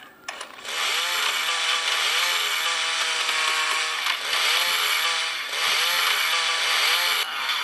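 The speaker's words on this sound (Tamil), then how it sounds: "அது வரைக்கும் வேறு ரம்பம் எடுறா" A saw cuts through zombies in the video game Into The Dead 2, a loud, continuous motorized buzzing that dips briefly every couple of seconds and plays alone without talk.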